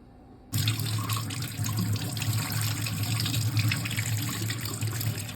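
Raw mangoes for pickle washed under running tap water, a steady close splashing flow that starts abruptly after a brief quiet moment and continues without a break.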